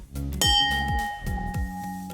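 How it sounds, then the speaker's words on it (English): A bell rung in an office to celebrate sales wins gives a bright, struck clang that rings out and decays, one clear strike among low thumps and handling noise, no talk. "I have to ring the bell."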